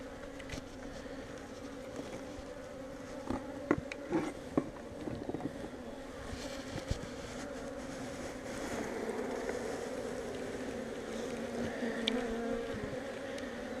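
Honey bees buzz continuously around an open hive as frames are handled, a dense steady drone with scattered taps and knocks, swelling slightly toward the end.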